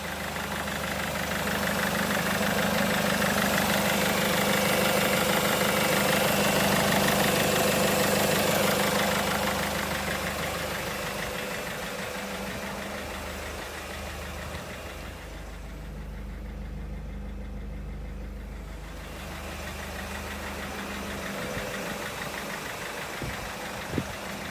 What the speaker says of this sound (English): as you can see, the van started up all right. It sounds just like a normal diesel